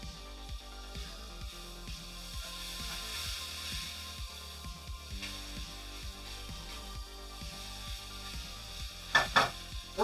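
Jambalaya cooking in a pan gives off a steady, close sizzle along with faint stirring scrapes, with a few louder crackling bursts near the end and no voices.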